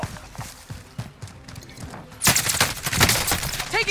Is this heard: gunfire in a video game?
yes